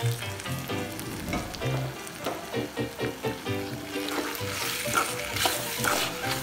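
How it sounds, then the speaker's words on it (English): Beef sizzles and fries in a pan while being stirred, steady crackling with repeated scraping strokes of a utensil, close and clear with no voices. "Now cook until the beef becomes dry."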